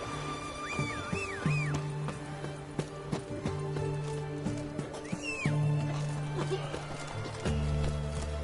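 Horse Roach neighs and whinnies in The Witcher 3, several rising-falling whinnies spread across the scene over clip-clopping hooves and a low droning background, fairly close and moderately loud.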